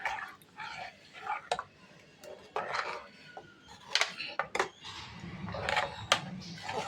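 A spoon stirs coconut milk with cardamom into basmati rice kheer in a pot, giving scattered clinks and scrapes against the metal. A dog barks faintly in the background.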